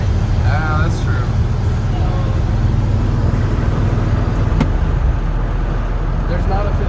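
A 1978 Ford truck drives with a steady low engine and road rumble throughout, carrying a rough drivetrain vibration. Voices talk over it, and a brief higher whine rises near the middle.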